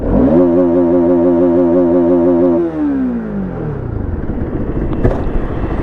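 A Bajaj Pulsar RS200 BS6 motorcycle with over 25,000 km idles loudly nearby, a steady throbbing hum that winds down in pitch partway through and settles into a rough, pulsing rumble.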